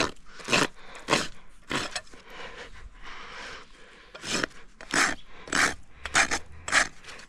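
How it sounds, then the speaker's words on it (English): A rasp files a miniature pony's hoof in repeated firm strokes, each a loud, close, rough scraping burst separated by short pauses, with no talking. "I'm going to give it a few more rasp strokes."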